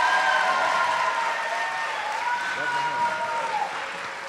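An audience applauds to welcome a comedian home, a broad wash of clapping that stays steady and then gradually fades, with speech rising over it.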